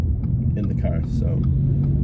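Steady low road rumble inside a moving car, continuous and close, with a voice talking over it.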